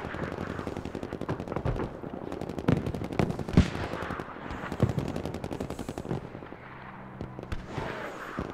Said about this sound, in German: Der wird auch sofort beschossen, ne?